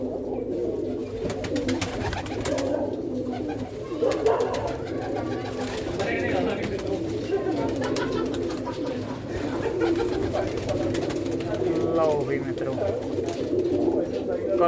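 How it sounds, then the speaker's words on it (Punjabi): Madina breed pigeons coo steadily inside a netted loft lined with fiber sheeting, a close, continuous layered murmur of many birds with no clear breaks. "ਇਹ ਸਾਰੀਆਂ ਜਿਹੜੀਆਂ ਹੈਗੀਆਂ ਮਦੀਨਾ ਦੇ ਕਬੂਤਰੀਆਂ ਨੇ"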